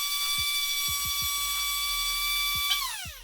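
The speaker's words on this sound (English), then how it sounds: "Let's check the durability with a sander" Sander grinding the sole of an Under Armour Curry 6 basketball shoe in a durability test: a steady high whine with bursts of clicking contact, then the pitch slides down as the machine winds down at the end.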